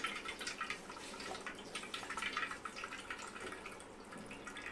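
Water splashes and drips steadily close by, a wet, irregular patter as liquid is wrung out while making rasmalai, with no voices.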